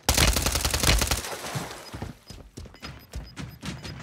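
Dense bursts of automatic gunfire in Call of Duty Warzone 3, loud and rapid at first, then thinning into scattered single shots and short volleys with faint metallic pings between them.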